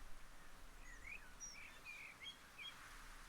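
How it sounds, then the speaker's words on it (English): Several birds chirp and tweet in a forest in the game Rising World, scattered short calls over a soft ambient background, fairly faint with no speech. "There's a handful of birds in here making just nice noise."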